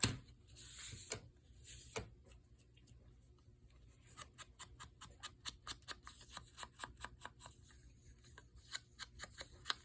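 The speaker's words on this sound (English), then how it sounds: "I'm gonna clean it up just a tad with my scissors" Quiet, rapid snipping clicks repeat steadily as scissors trim paper close by, after a brief rustle at the start.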